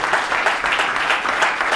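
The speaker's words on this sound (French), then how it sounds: "On peut les applaudir" Applause from the audience at a round-table conference, a steady, fairly loud wash of many people clapping together that carries evenly throughout.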